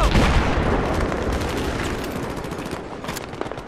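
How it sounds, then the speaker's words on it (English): Rapid gunfire rakes a tank in the Battlefield 3 campaign, a loud, continuous fusillade of overlapping shots that thins a little toward the end into sparser cracks. "Why are you guys shooting bullets at the tank?"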